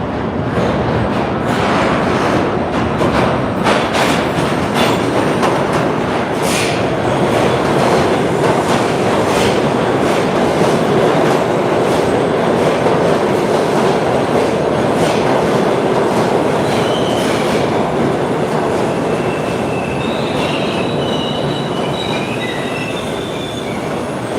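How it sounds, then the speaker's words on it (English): A New York City subway train passing near Times Square roars loud and close, with steady rumbling wheels, rhythmic clatter and high squealing of metal on rails throughout, no talk. "I hear a subway."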